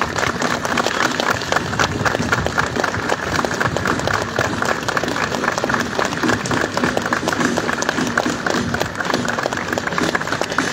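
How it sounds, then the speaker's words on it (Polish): Sustained applause from a large outdoor crowd saluting soldiers at a Polish military parade, a dense steady patter of many hands clapping, loud and continuous throughout. "z tego miejsca pozdrówmy ich oklaskami i podziękujmy za ich służbę"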